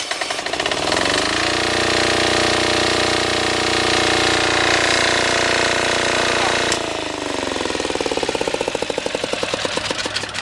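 An MEP 531A 2 kW diesel military generator starting up, settling into a loud, steady chugging idle with a rapid pulsing knock, then shifting load partway through and running on.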